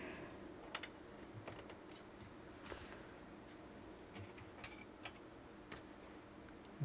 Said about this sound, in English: Try a keyboard on here, make sure it's actually working.